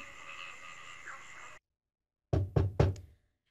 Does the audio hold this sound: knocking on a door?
yes